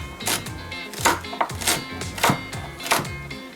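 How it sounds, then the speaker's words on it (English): A knife chops celery on a cutting board in a home kitchen, about eight sharp, evenly spaced knocks ringing out clearly with no talking. "Now you're going to chop up some celery."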